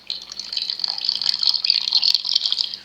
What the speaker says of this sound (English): Make I add water.